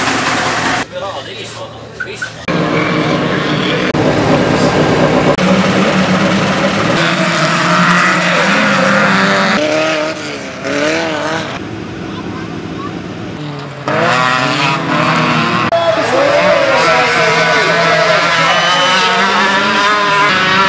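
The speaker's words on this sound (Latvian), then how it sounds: "Motors iet!" A small motor engine runs at the Pilskalni farm stables in Kalna parish, giving a loud, steady droning hum that wavers in pitch, with voices talking over it throughout.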